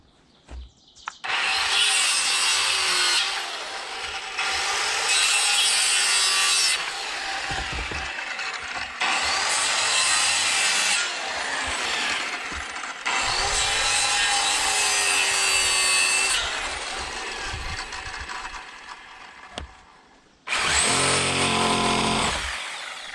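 A hand saw cutting through wooden rafters for a log cabin lean-to, long runs of loud rasping back-and-forth strokes broken by short pauses, close and with no talking.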